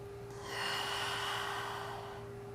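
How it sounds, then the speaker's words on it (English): A slow, deep breath during a yoga balance flow, drawn in and released through the nose as a soft airy rush, close and faint over a low steady hum, with no talking. "2 more rounds of breath."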